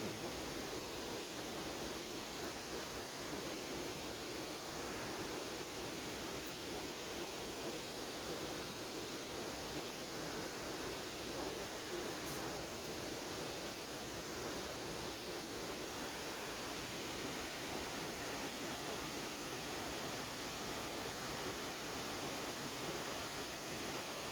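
A forest waterfall close by gives a steady, even broadband rush of falling water, constant and unbroken throughout, with no voices over it.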